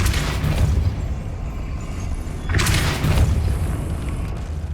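A Repulso spell cast in the Hogwarts Legacy video game, heard as two deep booming blasts about two and a half seconds apart over a low rumbling background.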